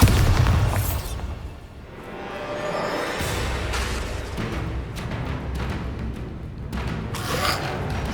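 Several booming spell explosions from the Bombarda charm in Hogwarts Legacy, the first and loudest burst up front, then repeated blasts and rumbling debris over continuous game ambience, with no talking.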